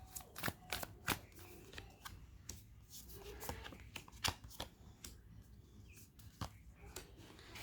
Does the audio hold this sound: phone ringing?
no